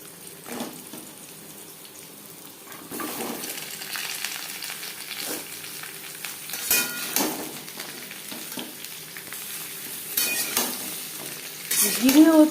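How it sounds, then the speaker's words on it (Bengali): Papaya fries in oil with cumin seeds and a bay leaf for a Bengali curry, making a steady moderate sizzle with intermittent stirring scrapes and a louder clatter near the end, close by with no speech. "15-20 সেকেন্ড জিরে তেজপাতা ভেজে নেওয়ার পর দিয়ে দেবো পেঁপে।"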